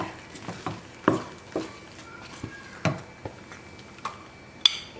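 A spoon scrapes and stirs thick wheat rava kesari in a pan, producing a series of short, sharp scraping strokes roughly every half second, close and fairly clear over a quiet background.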